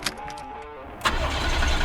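A Mercedes G63 AMG, just repaired after a fuel-system fault, cranks with a brief whirring starter and then catches, its engine firing up with a sudden louder burst and settling into a close, rumbling idle.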